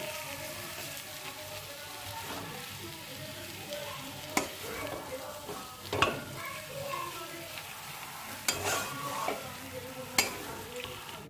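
Paneer stuffing with chopped green chilli, coriander, lemon juice and pepper being mixed in a bowl, a soft continuous rustle and scrape broken by a few sharper spoon clicks, close and fairly quiet, with no talking.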